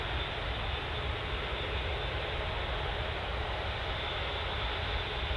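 An Emirates airliner's jet engines produce a steady, even roar at moderate distance, continuous and unbroken with no voices over it.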